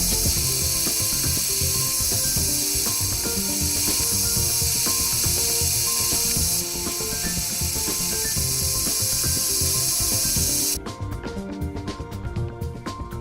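Lathe turning a mild steel screw for a clock, a steady whirring, ratcheting mechanical drone with dense rhythmic clatter that runs continuously at close range and eases slightly near the end.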